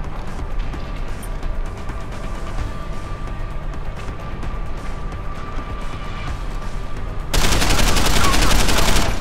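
Sustained gunfire in the Deus Ex video game, a steady rattle of distant shots beneath constant game noise, swelling abruptly into a louder, dense volley near the end.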